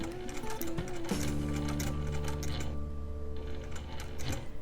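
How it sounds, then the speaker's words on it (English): Juki sewing machine with a binding foot stitching bias-tape binding, a close rapid mechanical whir of needle strokes running slowly and steadily with no voices. "very slowly with the stiletto, I am going to start stitching"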